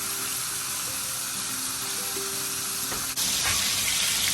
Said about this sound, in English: at this point you can add some butter here